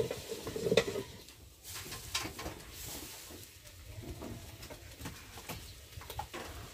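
Raw jackfruit curry is stirred and fried with turmeric in a village kitchen, giving soft sizzling and scraping with uneven stirring bursts. Faint birdsong sounds in the background.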